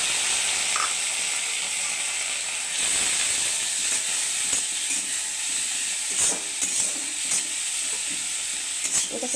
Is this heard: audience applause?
no